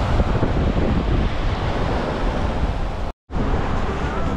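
Rough sea waves crash and roll onto a beach in Thailand, a loud continuous roar of surf mixed with wind buffeting the microphone, briefly cut off by a moment of silence.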